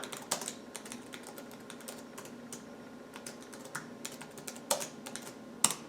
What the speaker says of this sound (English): Typing my name.